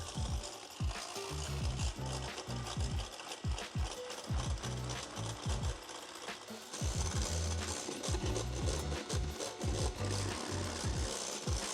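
Frothy egg mixture for Belgian waffles being beaten by hand, a steady rapid rhythm of knocks and scraping strokes against the bowl, close and fairly loud, with no talking.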